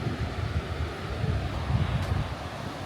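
Sea surf rolling onto a vast sandy beach at a holiday park on the coast, a steady broad wash of waves mixed with gusting wind noise on the microphone, continuous and fairly loud with no talk.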